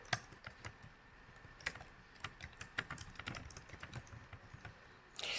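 Rapid, uneven clicks of keys on a computer keyboard as sample text is typed, quiet and close, in a steady run of taps that ends with a brief louder burst.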